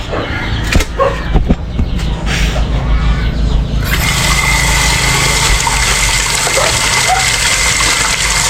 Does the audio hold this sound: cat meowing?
no